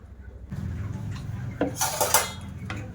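Dishes and utensils clink and knock in a kitchen while semolina pulao is added to cooled sugar syrup in a pot, with a few sharp metallic strikes over a low background.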